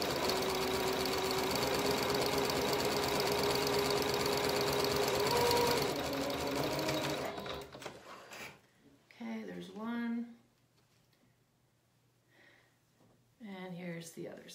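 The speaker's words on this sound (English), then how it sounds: "the narrow zigzag stitch is what we're using for the shoulder" A sewing machine runs a narrow zigzag stitch along a shoulder seam, a loud continuous whirring hum for about seven seconds, then stops; afterward a person speaks in short bursts with pauses.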